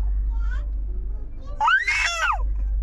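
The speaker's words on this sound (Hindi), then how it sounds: "हाँ चिल्लाओ और चिल्लाओ, बस चिल्लाना है सुबह से" A small child shrieks loudly close by, a high wavering scream after a shorter cry, over a steady low rumble, likely from a train ride.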